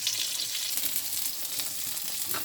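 Fish frying in oil over a low flame, a steady, even sizzle with a fine crackle, moderately close and continuous throughout with no talk.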